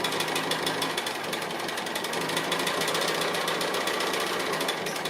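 A sewing machine stitches applique lines back and forth across a motor grill design, a steady, loud, fast mechanical chatter that runs without pause, close up and with no voices over it.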